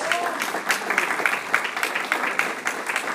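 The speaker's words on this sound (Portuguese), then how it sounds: "Aplauda o Senhor Jesus!" A church congregation applauds together, a dense, steady stretch of many hands clapping with rhythmic surges, while faint voices carry over it.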